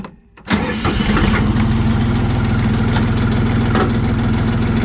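A Jinma tractor engine cranks briefly, catches and settles into a loud, steady diesel idle close by, with a few small knocks over the running rumble.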